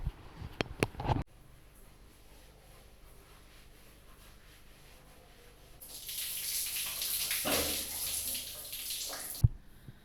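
Shower or bath water running in a home bathroom, a steady rushing spray that starts partway through and runs for a few seconds before cutting off abruptly, preceded by a few faint knocks.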